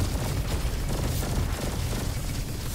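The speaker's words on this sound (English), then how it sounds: "Plus the two sticky bombs of the Elementalist." Dense, continuous rumble of sticky bomb explosions from an Elementalist in Roboquest, a steady roar of overlapping blasts with no clear gaps between them.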